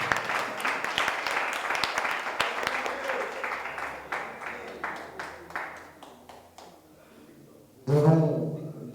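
An audience at a press conference breaks into applause, a dense burst of clapping that gradually thins and fades, followed by a voice speaking at the end.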